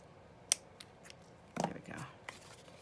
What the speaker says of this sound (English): And then I'm just going to snip that off right there.